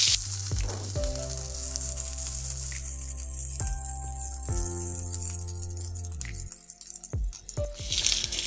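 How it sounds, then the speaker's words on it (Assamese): Roughly chopped onions sizzle steadily in a hot pan while chilli paneer is being cooked, with a continuous close frying hiss broken by several clinks and scrapes of a utensil against the pan. "পিঁয়াজখিনি কেঁচা কেঁচা ভাৱটো নোযোৱালৈকে ভাজি থাকিব।"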